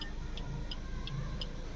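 The inside of a car as people settle into their seats, with a steady engine hum under a regular, evenly spaced ticking click. No one speaks.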